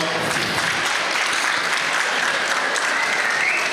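A crowd applauds steadily throughout, a dense, continuous clatter of many hands clapping at an even loudness with no pauses.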